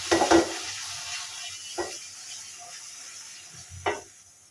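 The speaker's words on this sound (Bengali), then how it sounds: "ঘিটা দিয়ে আমি আবারও নেড়ে দিচ্ছি" Papaya halwa stirred in a pan after ghee is added, with a louder scrape and sizzle at the start, then soft frying hiss and occasional spoon scrapes.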